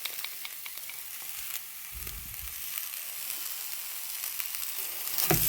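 Okra frying in a pan with a paste of coconut, dried chilli and turmeric, giving a steady close sizzle with occasional stirring scrapes and a louder clatter at the end.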